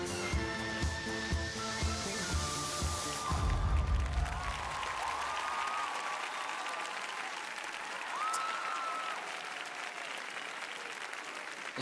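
An audience at a Grand Prix de France ice dance competition in an arena applauds steadily as the music fades out, with sustained clapping and scattered cheers continuing to the end.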